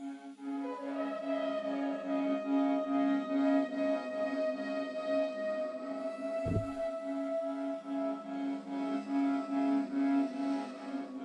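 A dark ethnic flute melody for a UK drill beat, layered in FL Studio over a reversed melody with EQ: sustained airy flute lines over a steady low drone, with a brief deep swell midway, heard alone.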